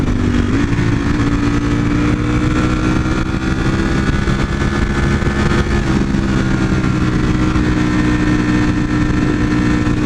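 Motorcycle engines rumble loudly and continuously nearby, a steady mid-pitched drone with slight shifts as they pass.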